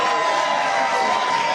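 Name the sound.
crowd cheering at rally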